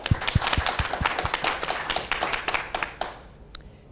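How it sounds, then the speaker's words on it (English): Audience clapping in a room, a brisk scatter of hand claps at close-to-mid distance that builds briefly and then thins out and stops toward the end. "Feel free to clap."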